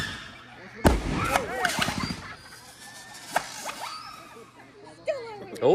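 Outdoor fireworks: sharp bangs and crackling bursts with whistling streaks arriving at intervals, mixed with people talking nearby.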